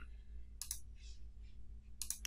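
Mouse clicks while navigating folders in Adobe Experience Manager forms software: two short pairs of crisp, close clicks, one early and one near the end, with a faint soft rustle between over a low steady hum.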